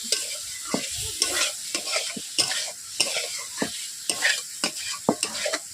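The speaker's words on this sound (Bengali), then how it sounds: "এইভাবে আমি আলুগুলোকে 3 মিনিট কষে নিচ্ছি" Potato pieces sautéing in a pan for a rohu fish curry, with a steady sizzle of oil and repeated close scraping stirs of a spatula.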